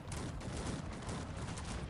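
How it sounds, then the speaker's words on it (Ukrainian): Cannon fire in the strategy game Cossacks 3 crackles as dense, continuous volleys of distant gunfire, a steady faint barrage with no clear single shots. "Дуже гарно настрілює він гарматами, правда, вони доволі далеко."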